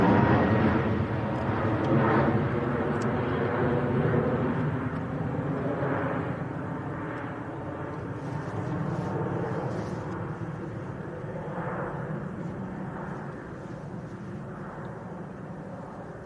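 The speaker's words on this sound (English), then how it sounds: "This looks like a Max. Was indeed a TUI Max to Sharm el Sheikh." A TUI Boeing 737 Max airliner departs Manchester Airport, its steady broadband engine roar sustained and fairly distant, rising and falling gently with no talk over it.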